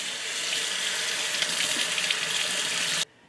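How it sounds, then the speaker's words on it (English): Tap water runs steadily into a sink to rinse cockle clam meat, making a close, continuous splashing hiss that stops abruptly at the end. "We're gonna rinse it."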